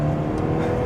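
Lotus Emira Turbo, a mid-engine sports car, with its engine droning loud and close through a quick, snappy gear change, a steady rushing roar with no voices.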